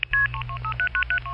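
Telephone network tones after a dialed call, a quick sequence of loud, clean DTMF-style beeps over a steady low line hum, with short gaps between each paired tone, heard alone with no talk.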